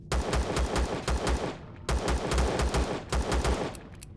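Automatic gunfire in the video game Empyrion Galactic Survival comes in three rapid bursts of evenly spaced, punchy shots, loud and close, with short pauses between bursts.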